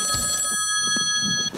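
A telephone rings with a steady electronic bell tone that stays loud and close the whole time, with no one speaking over it.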